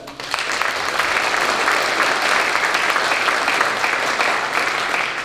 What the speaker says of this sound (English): I'll have a round of applause for that.